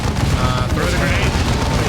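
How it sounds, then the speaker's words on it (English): A grenade detonates in the Warhammer 40K real-time strategy game Dawn of War 2, a heavy, muffled boom within a dense rumble of battle noise that holds steady for the whole stretch. "Throw the grenade."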